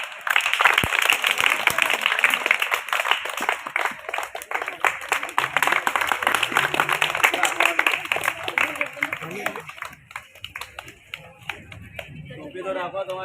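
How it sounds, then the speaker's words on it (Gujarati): A group of campers claps together at a three-day non-residential camp, a busy, loud stretch of hand claps with voices mixed in, thinning out near the end. "બધા તાળી પાડજો."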